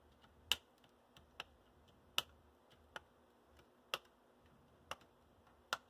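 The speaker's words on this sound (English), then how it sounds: "take my clipper here and I'm going to go ahead and I'm going to trim them" Clippers trim freshly set model locomotive handrail stanchions, giving about eight small, sharp snips spaced roughly every half second to second, crisp and close against a quiet background.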